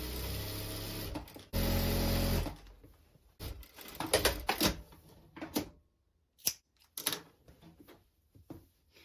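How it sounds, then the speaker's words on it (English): A sewing machine tacks down the front seam of a wrap dress, running in short loud bursts with pauses and small handling clicks between them. "continue going the whole way down the front seam"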